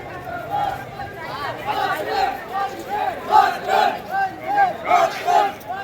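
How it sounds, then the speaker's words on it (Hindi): At a crowded BJP gathering in Sujangarh's Terapanth Bhawan, a large crowd chants zindabad slogans in loud rhythmic bursts, voice after voice rising in repeated pulses over background chatter. "जिंदाबाद के नारे भी लग रहे हैं देखिए यहाँ पर।"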